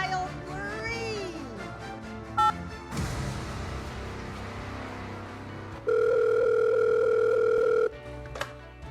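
A telephone tone sounds after an automated phone menu for a youth radio call-in program, a steady loud two-pitch tone lasting about two seconds, preceded by menu audio and a brief beep, with no voice over it.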